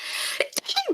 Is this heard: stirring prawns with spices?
no